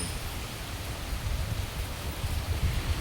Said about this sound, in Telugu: వర్షం చూడండి ఫ్రెండ్స్ ఎంత ఎలా వస్తుందో